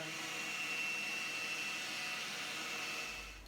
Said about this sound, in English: route out just short of the line and then come through with a chisel to get the rest of it out